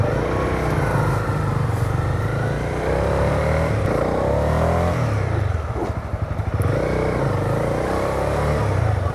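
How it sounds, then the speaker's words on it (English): Honda 300cc motorcycle exhaust note while riding, a loud continuous engine drone that rises and falls with throttle changes, with a brief dip midway, close and dominant over wind noise. "The exhaust, man, I just love this exhaust note."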